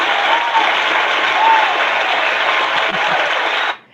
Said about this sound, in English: So we're going to give our applause to our guests.